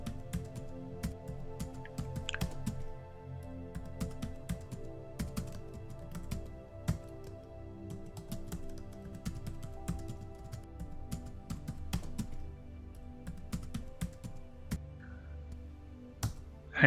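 Code is typed on a computer keyboard, with steady, close key clicks and taps in irregular bursts over a quiet background and no voices.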